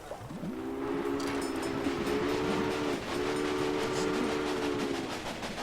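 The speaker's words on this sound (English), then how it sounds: "so I can blow the whistle." Steam locomotive whistle from the Railway Empire video game, sounding as two long, loud, steady harmonic blasts separated by a brief break, with a low rumbling hiss of the train beneath.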